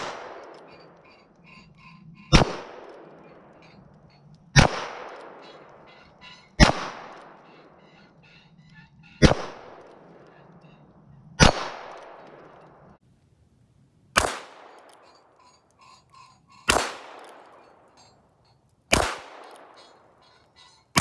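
A Heritage Manufacturing Barkeep revolver fires nine sharp, loud shots at a slow, even pace of roughly two to three seconds apart, each cracking outdoors and echoing briefly.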